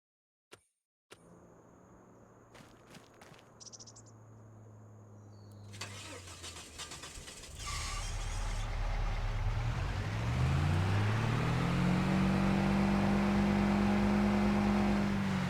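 A truck's engine cranks and catches in a farming game on a homestead map, after a few clicks and a door thud, then settles into a steady idle that rises as the vehicle pulls away, loud and close with no talking.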